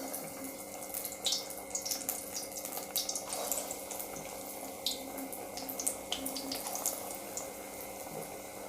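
Spinach (palak keerai) bonda batter frying in hot oil, a close, steady sizzle dotted with crackles and pops throughout.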